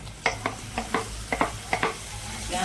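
Carrots and tomatoes frying in a pan for Indian-style masala pasta, a steady sizzle punctuated by about eight regular stirring scrapes of a spoon, close and fairly quiet, with no one talking.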